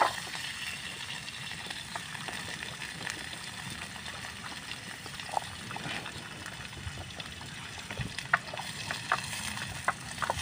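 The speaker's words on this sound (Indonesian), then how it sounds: "ada bawang yang tadi kita irisin nih, kita goreng." Quiet, steady sizzling of sliced onions frying in oil, with faint crackles and pops scattered throughout and no talking.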